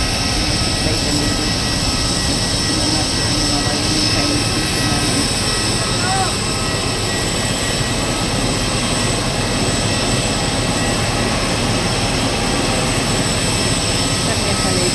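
On the apron of Bangalore airport, a parked airliner's jet engines give off a loud, unbroken roar and whine that fills the whole stretch. Faint voices sit underneath it.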